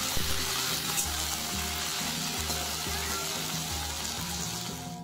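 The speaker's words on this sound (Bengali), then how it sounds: "ওদিকে গ্যাসে কড়াই বসিয়ে দিয়েছি, তেলটা গরম হয়ে গেছে, তাই ভাবলাম ভেন্ডিটা আগে ফ্রাই করে নিই।" Okra (bhindi) frying in hot oil in a wok, a steady close sizzle with a low hum underneath and no speech.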